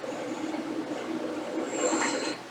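A train arrives in a film scene, rumbling steadily with a rising hiss and a brief high squeal of wheels near the end.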